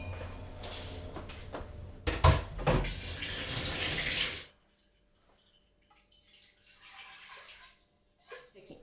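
Food is rinsed under a running kitchen tap, a loud steady gush of water splashing for several seconds, then cut off, leaving faint drips and light handling noises.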